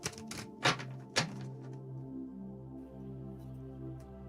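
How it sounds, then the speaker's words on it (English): Playing cards being shuffled close by, giving a few quick riffling bursts in the first second or so, then a quiet, steady room background. "it's because I'm shuffling cards, and that's probably why"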